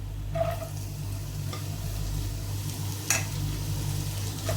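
Sliced onions sautéing in a hot pan for chicken thoran, giving a steady close sizzle with stirring scrapes and a couple of sharper utensil clicks throughout, no voices.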